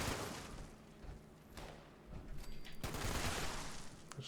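Exploding .50 cal machine gun firing in Fallout 76 from a player in power armor, rapid rattling bursts with a short lull midway, then heavier sustained fire and thuds toward the end, no voices.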